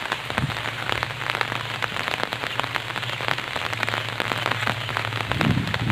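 Steady rain pours down during a flood beside the Longai river, a dense, even patter on surfaces close by with no voices, continuous for the whole stretch.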